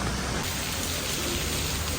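Steady, dense heavy rain pouring down at a temple in Singapore, a continuous broadband hiss with a low rumble underneath, loud and unbroken throughout.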